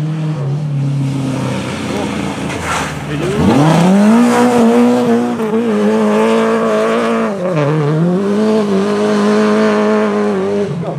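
Lada 2107 rally car at a Borsodbóta-Sáta sprint rally, engine revving hard and climbing in pitch as it slides and accelerates, loud and close from onboard throughout, with occupants talking over it.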